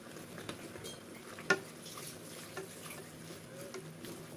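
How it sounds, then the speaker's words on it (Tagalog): A spoon stirs chicken kinamatisan with alugbati leaves in a pot, with soft scraping and one sharp clink of metal, all quiet and close. "Haluin lang po natin."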